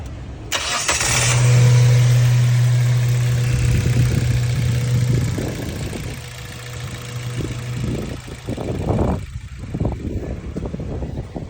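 A 2009 Mazda car engine, with 285,000 km on it, cranks and catches loudly, then settles into a steady, even idle close by, with a few clunks and rustles near the end.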